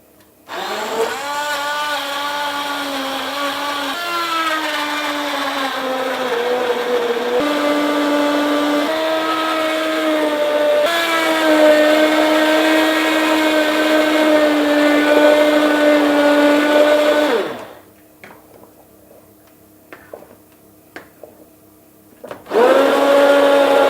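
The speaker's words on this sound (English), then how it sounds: "I'm gonna grab myself the mixer and let's puree everything" A hand mixer purees carrot soup in a hot pan with a loud, whining motor hum that shifts in pitch, cuts out after about seventeen seconds, then starts again near the end.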